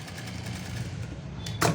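A sewing machine stitches a blouse with a steady, close mechanical hum that runs throughout, with a louder burst near the end.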